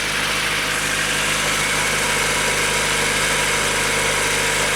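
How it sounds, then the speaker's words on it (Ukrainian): A cold Honda Civic sixth-generation engine idles steadily up close at slightly raised revs, a continuous low rumble with even vibration and no other sounds. "Послухайте, як двигун працює, просто пісня"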